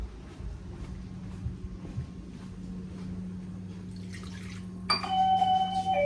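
A household doorbell rings once near the end, a bright, loud chime breaking a quiet indoor background of faint room noise.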